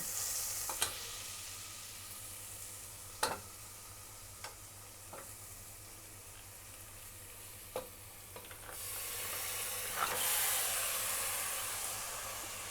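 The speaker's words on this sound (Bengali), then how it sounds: "এবার ম্যারিনেট করা মাটনটা আমি এর মধ্যে দিয়ে দেব।" Marinated mutton sizzles hard in spiced oil in a pan, a steady close hiss broken by sharp pops and the scrape of stirring, and it grows louder near the end.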